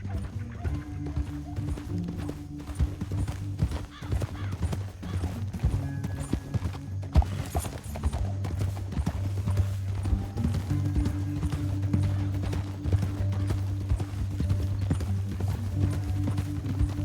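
Steady hoofbeats of a galloping horse in Red Dead Redemption 2 run throughout, loud and continuous, with a low droning background and occasional voices.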